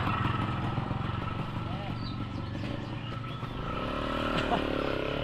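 A motorcycle used for hauling building materials runs with a steady, moderately loud engine drone throughout, while people talk nearby.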